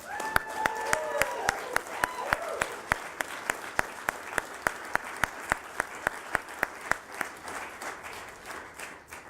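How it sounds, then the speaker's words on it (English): A group claps at the Nasdaq bell ceremony for Apellis Pharmaceuticals. Sharp, evenly spaced strikes ring out steadily over the top of the scattered clapping, and a few voices carry early on. It all fades toward the end. "I think this deserves a round of applause."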